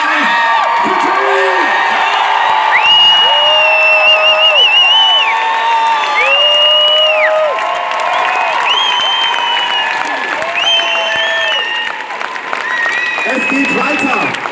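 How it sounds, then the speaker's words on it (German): A large crowd at an awards show claps and cheers loudly and continuously, with whoops and shouts rising over the sustained applause. "Bitte, gebt ihm einen fetten Applaus."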